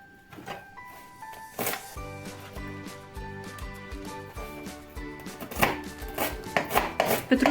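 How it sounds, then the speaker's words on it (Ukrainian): A knife chops parsley rapidly on a cutting board, quick bursts of sharp taps with music playing underneath, getting busier toward the end. "Нарізаю частину петрушки."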